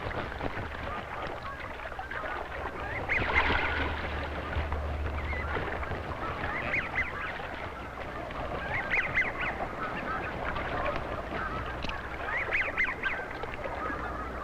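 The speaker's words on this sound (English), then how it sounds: "the goose covered the 100 yards in 5 seconds" A goose in free flight along a 100-yard course gives several faint, scattered honks at irregular intervals over a low, continuous rumble.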